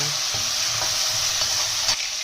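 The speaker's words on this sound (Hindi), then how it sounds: "ये टमाटरों को जो है वो आपको अच्छे से ऑयल में पकाना है।" Four chopped medium tomatoes cook in oil in a kadai, giving a loud, steady hiss with a few soft stirring knocks over a couple of seconds and no speech.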